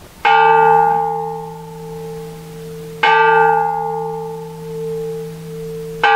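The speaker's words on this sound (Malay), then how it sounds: "Bulan puasa ni kita nak dengar genta." A large bell at Bukit Puteri strikes twice, about three seconds apart, each stroke ringing out loud and then humming on in a long, slowly fading tone.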